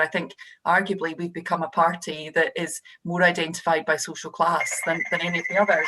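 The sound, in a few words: telephone ringing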